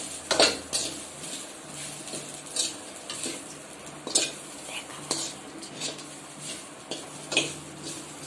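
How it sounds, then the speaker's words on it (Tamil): Grated coconut roasts in a pan over low heat, a spatula scraping and clinking against the metal in uneven strokes over a faint, soft sizzle, close and fairly quiet. "அதாவது தேங்காய் வாசம் வர்ற வரைக்கும் வறுத்துக்கிட்டே இருக்கிறேன்"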